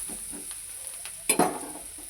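Bitter gourd (kakarakaya) pieces frying in a pan, with a soft steady sizzle and a short louder burst of stirring scrapes partway through, close and without talk.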